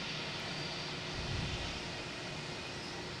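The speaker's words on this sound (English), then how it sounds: "A380 taking off, heading back to London Heathrow." An Airbus A380 taking off at Boston Logan Airport, bound for London Heathrow: a dense, steady roar of jet engines, loud and unbroken, swelling slightly mid-way.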